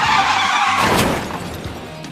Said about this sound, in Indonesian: Terkadang kau harus menginjak rem.